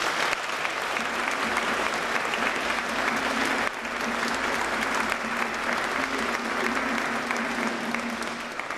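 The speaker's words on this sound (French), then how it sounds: "Est-ce qu'on peut donner encore une bonne main d'applaudissement pour la belle célébration de Jésus?" Loud, sustained applause fills a church during a Sunday Mass as the congregation celebrates, with dense clapping throughout and a slight dip midway before it continues.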